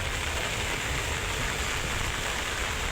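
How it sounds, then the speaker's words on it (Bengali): Heavy storm rain pours steadily in Ukhiya, a dense, unbroken wash of hiss and patter that holds at the same loud level throughout with no voices. "ঝড় বৃষ্টির কারণে সব দিকে পানি হয়ে গেছে"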